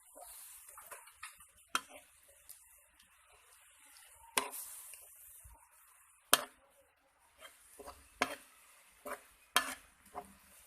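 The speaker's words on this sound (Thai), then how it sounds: "ผัดให้หอมนะคะ" Catfish stir-fried in a pan with curry paste, coconut milk and salt: sharp scattered clinks and scrapes of a utensil against the pan over a faint sizzle, fairly quiet and spaced at irregular intervals.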